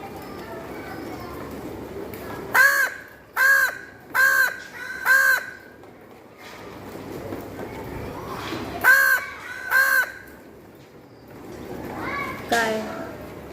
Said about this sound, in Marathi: तो दुसऱ्या कावळ्याशी बोलतोय